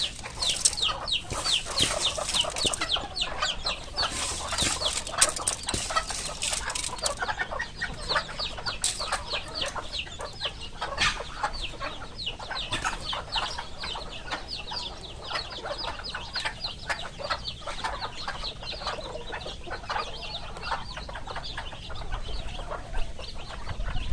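Hens cluck steadily with young chicks peeping in a busy, continuous chorus, fairly close, with occasional sharper calls and rustling throughout; about five hens with their chicks in a garden.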